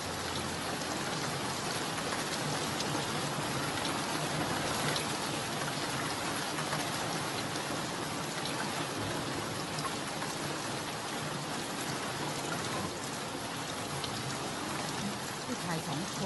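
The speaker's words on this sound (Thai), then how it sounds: "ฝนตกหนักมากเลย" Heavy rain pours down in a dense, unbroken hiss that stays constant and fairly loud throughout, with no voices over it.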